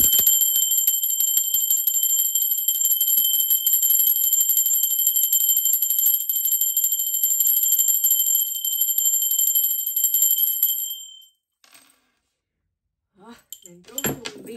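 A bell rings with a sustained, shimmering metallic tone and rapid striking for about ten seconds, then cuts off to near silence before faint sounds return.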